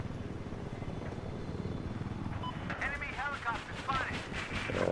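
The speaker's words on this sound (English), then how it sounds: "Here's helicopter number 3." Helicopter in the video game Battlefield 4, a steady low rotor drone with whining engine tones layered over it, moderately loud and continuous.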